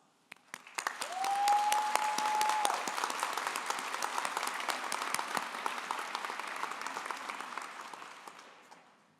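Sustained applause from a commencement ceremony audience for students' families, friends and mentors, steady crowd clapping with a whistle rising early on, moderately distant and alone.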